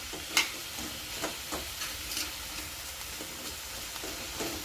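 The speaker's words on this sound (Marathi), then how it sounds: "तो टाकल्यानंतर पण त्याला छान असं मिक्स करून घ्यायचं आहे. पूर्ण छान अशी कोरडी परतून घ्यायची." Kardi bhaji, a leafy vegetable dish, stir-fried dry with ambari masala in a pan, with a steady sizzle and repeated scraping stir strokes close by, with no voices.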